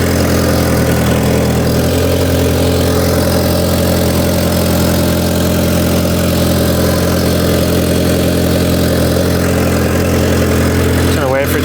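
An Audi TT engine idles after a cold start, with a steady, loud mechanical hum and faint vibration holding evenly for over ten seconds, close up and with no voices.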